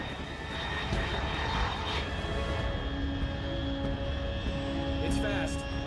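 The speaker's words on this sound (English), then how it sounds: "Unidentified aircraft detected." A fast aircraft passes high overhead in Metal Gear Solid 3, a steady engine roar holding throughout with faint tonal hums, while a radio voice talks over it.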